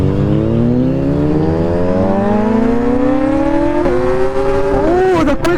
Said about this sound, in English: Oh, the quick shifter, bro. It sounds so sweet.